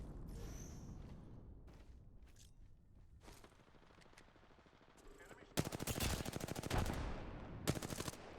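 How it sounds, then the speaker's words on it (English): Video game gunfire in a competitive match: quiet scuffs and movement give way to loud bursts of rapid automatic fire from a weapon, with short pauses between volleys. "Nice shots coming out of Trev."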